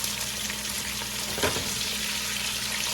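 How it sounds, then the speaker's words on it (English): Onions fry in a pan beside ribeye steaks, giving a dense, steady sizzle with one brief clatter in the middle and no talking. "So we might as well get the onions going."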